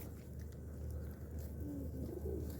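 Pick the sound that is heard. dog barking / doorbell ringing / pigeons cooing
pigeons cooing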